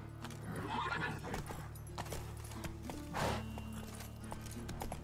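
The horse Roach from the video game The Witcher 3 moving at a gallop, with rhythmic hoof clip-clops and occasional snorts over a low steady game ambience, moderately quiet.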